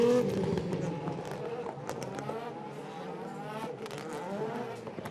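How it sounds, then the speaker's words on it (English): DTM race cars drive through turns at the Budapest circuit, engines whining and droning at a distance in a continuous blur, under a commentator's voice. "So the cars are rounding turn 13 now, heading towards turn number 14."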